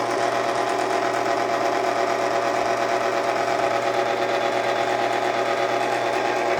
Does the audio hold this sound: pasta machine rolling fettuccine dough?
yes